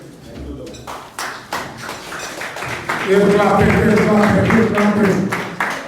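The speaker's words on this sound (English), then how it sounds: "Keep clapping." Audience clapping at the close of a police speech at a public event, a scattered patter that swells into a denser, louder round of applause midway and carries on steadily to the end.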